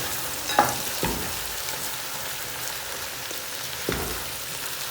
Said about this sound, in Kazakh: 10 минутта қуырып аламыз.